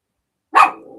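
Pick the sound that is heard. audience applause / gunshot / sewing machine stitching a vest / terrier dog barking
terrier dog barking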